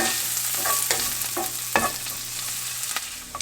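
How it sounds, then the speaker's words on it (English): Bacon with shallot frying in a pan as it is stirred, a close continuous sizzle with repeated scraping strokes of a spoon against the pan. "Give this a good stir."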